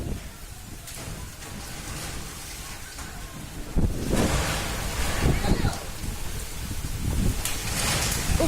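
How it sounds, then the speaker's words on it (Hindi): Strong wind from Cyclone Amphan roars and gusts against a school building with a tin roof, a harsh buffeting rush that surges louder about halfway through, with rain-like noise mixed in. "सोचिए जरा कि अम्फन तूफान के कहर के चलते हवा कितनी तेज रही होगी"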